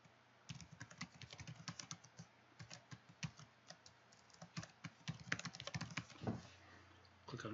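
Fingers tap out a password on a computer keyboard, a close run of quick, irregular key clicks in bursts with a short pause near the middle, no voices.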